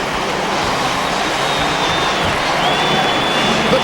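Dense, steady roar of a large stadium crowd at an AMA Supercross main event in Anaheim, 2001, cheering continuously with a sustained wash of noise and no clear individual voices.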